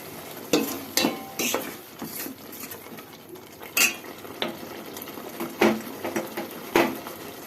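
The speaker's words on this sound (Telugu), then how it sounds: "ఇది కొంచెం బాయిల్ అవ్వాలి, పచ్చివాసన అంతా పోయేలాగా వేగాలండి" Chicken curry masala frying in a pan, with scattered clinks and scrapes of a utensil stirring against metal over a soft, steady sizzle, close and moderately loud, no talking.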